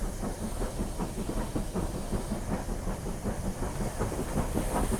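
A steam locomotive chugs and hisses under load, steady rhythmic exhaust beats with rail clatter, loud and close throughout.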